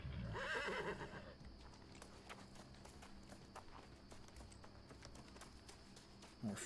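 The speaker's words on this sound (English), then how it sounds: "Knew I heard a horse, and there it is." A horse in the video game New World whinnies loudly at the start, then hooves clop steadily in the background over a low ambient game bed for several seconds.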